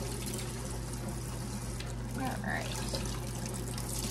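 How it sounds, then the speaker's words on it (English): Tap water runs steadily at a kitchen sink while a cheese grater is washed, with a low hum underneath and a person speaking briefly. "I'm just trying to wash where I had to shred cheese. I wanted to get this clean too before the cheese dried on it."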